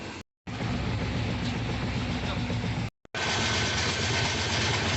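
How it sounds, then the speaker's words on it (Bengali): Steady rumble of a moving passenger train on a trip to Puri, a constant broadband roar broken by two brief dropouts, with no voices. "ট্রেন অনেকক্ষণ আগেই ছেড়ে দিয়েছি, অনেকটা রাস্তায় চলে এসেছি"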